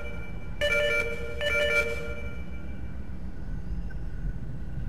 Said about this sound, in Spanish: Ay, telefonito otra vez.